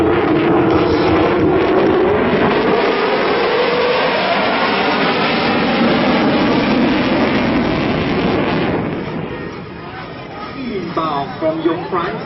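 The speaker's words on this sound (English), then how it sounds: "As the F-16 Falcon sets up for the next sequence, be prepared for an entertaining and high-energy aerial demonstration." F-16 Falcon jet performing an aerobatic display at an air show, a loud sustained jet roar with a rising engine tone that fades slightly near the end, with announcer speech over it.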